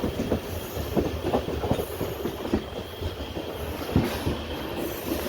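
The West Coast Express passenger train rumbles through Salem Junction with a steady roll of wheels and clacking, loud and close, punctuated by sharp clatters over the rail joints.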